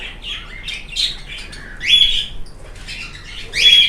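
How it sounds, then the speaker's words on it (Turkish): Hens sit resting in a poultry coop and chirp and squawk close by in short, irregular bursts, with louder calls standing out. No one speaks. "dinlenen dişi kuşlarımız var"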